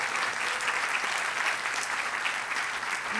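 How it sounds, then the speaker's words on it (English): Steady, dense applause from an audience at an event, honoring a team standing at the front; continuous and full throughout with no pauses or voices. "let's give them a round of applause"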